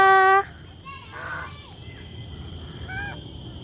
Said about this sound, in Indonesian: Ada angsa.